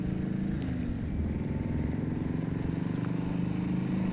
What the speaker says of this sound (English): sounds like a car driving down a road